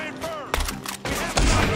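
A few heavy gunshot bursts in Red Dead Redemption 2, loud and close, mixed in with excited players' talk.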